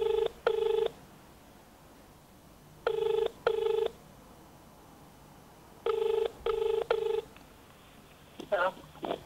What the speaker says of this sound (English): I can hear the phone is ringing